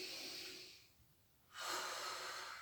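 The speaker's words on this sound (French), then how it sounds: "J'inspire." Breathing during a gentle exercise session with the arms brought forward: a long, airy breath, a quiet pause, then a second strong breath that is close and clearly audible.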